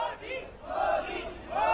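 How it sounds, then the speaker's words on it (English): A crowd of onlookers chants "Modi, Modi" for India's Prime Minister in Delhi, the voices swelling in rhythmic waves, moderately close and loud. "we have the chants of Modi, Modi"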